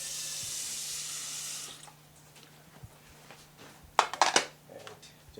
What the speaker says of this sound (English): So now put a little bit of water in the pot.